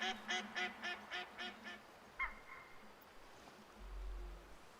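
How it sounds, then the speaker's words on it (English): A wild duck in the hunting game Way of the Hunter quacks in a rapid rhythmic series of about seven calls, then a single call, faint and distant against quiet ambience. "Okay, that's just wild duck."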